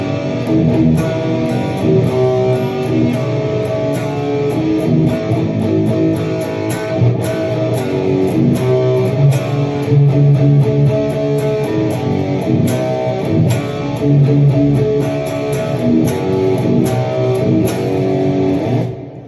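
Electric guitar strums a chord progression built on a 1-4-5 pattern, loud, dense and continuous with a full, effects-laden tone and no talking.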